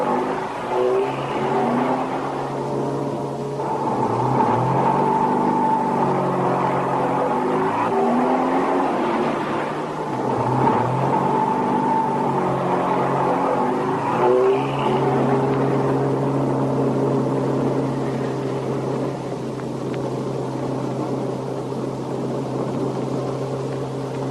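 A diesel truck engine idles and drives steadily with a low droning hum and shifting tones as it rises and falls in pitch, close by, with no talk.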